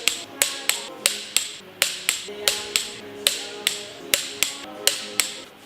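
A clicking wrench tightens intake manifold bolts on a big-block Ford 390 FE engine, giving a steady series of about fifteen sharp, close metallic clicks in an even rhythm, with no talk.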